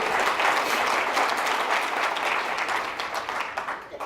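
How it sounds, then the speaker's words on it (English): A crowd at a teachers' union president's 2016 State of the Union speech gives loud, sustained applause, thick and continuous throughout before thinning slightly at the end. "Round of applause for all of you."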